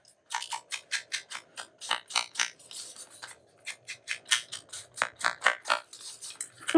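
Scissors snip through paper in a quick run of about twenty crisp, close cuts, evenly paced and sounding alone in a quiet room.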